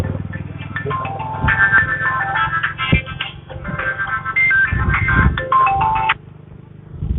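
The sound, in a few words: mobile phone ringing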